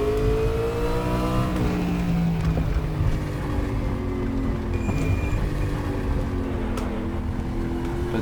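Race car in RaceRoom Racing, its engine note falling and shifting as it brakes, a continuous loud roar with descending pitch sweeps, close and alone with no talk.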